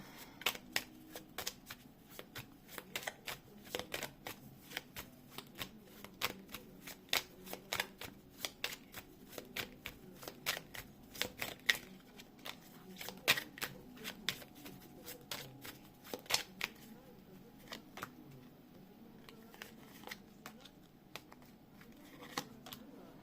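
Tarot cards being shuffled, with rapid crisp riffling bursts repeating in quick irregular rhythm, close and fairly quiet, with no voices.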